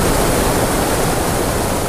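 A waterfall roars, a dense, steady rush of falling water filling the air close by, with no voices.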